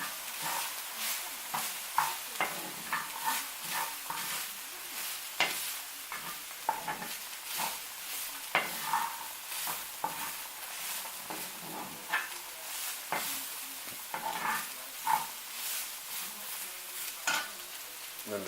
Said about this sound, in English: So just keep stirring it up a little bit more.